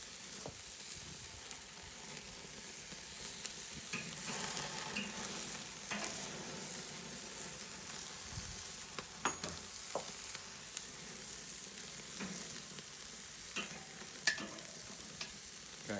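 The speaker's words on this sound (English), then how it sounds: "this is what I call a good, nice sear" A sous vide ribeye steak sears in a hot pan with a steady, close sizzle and crackle, marked by occasional sharp pops and light scraping, with no talk.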